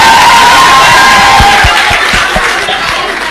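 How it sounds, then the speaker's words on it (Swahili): A crowd of young people at a political meeting in Nairobi cheers and whoops, with scattered shouts and a few sharp claps, loud and close, easing slightly toward the end. "Haya, pigie yeye makofi."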